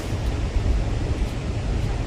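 Waves and wind at Kelingking Beach on Nusa Penida, Bali, make a continuous low roaring rush with gusty buffeting against the microphone.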